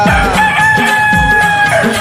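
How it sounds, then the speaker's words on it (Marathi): A rooster crows loud and close within a Marathi devotional song to the goddess, set against sustained musical tones. "कोंबडा आरवला"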